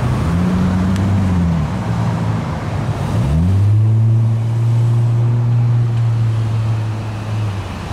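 Cars pull into a crowded gas station in San Antonio, Texas, during a post-hurricane fuel shortage; close engines rev and hum with rising and falling pitch, one vehicle swelling loud near the middle, no talk.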